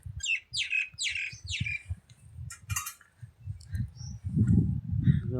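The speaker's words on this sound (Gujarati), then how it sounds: "પશુ પંખી બધા હારાટી બોલાવે છે" Several birds squawk and chirp in quick descending calls, with a low rumble of background noise underneath.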